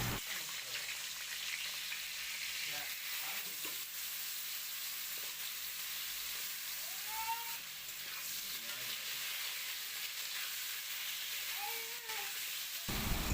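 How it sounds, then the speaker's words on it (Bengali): Cut potatoes frying in hot oil in a wok, a steady dense hiss of sizzling that runs close and unbroken for the whole stretch, with a few faint stirring scrapes and no talking. "তেলটা একটু গরম করে নিয়ে দিয়ে দেব ওর মধ্যে কেটে রাখা আলুগুলো আমি ভালো করে ভেজে নেব"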